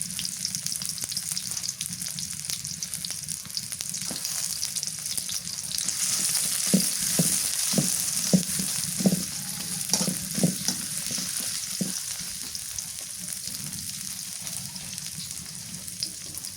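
Sliced onions frying in beef fat on a clay stove, a continuous sizzle with a run of stirring scrapes in the middle, close and steady with no talk.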